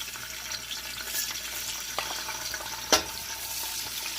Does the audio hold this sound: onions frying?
yes